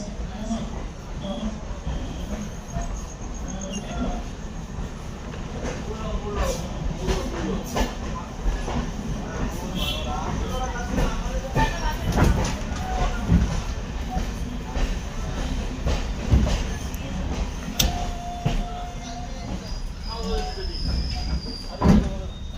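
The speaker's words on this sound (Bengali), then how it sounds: "শান্তিপুর জংশন ছেড়ে চলে যাচ্ছে আর ট্রেন একদম ফাঁকা" A mostly empty passenger train runs on a winter night after leaving Shantipur Junction, with a steady rumble, rhythmic wheel clatter and occasional squeals, and a voice talking over it now and then.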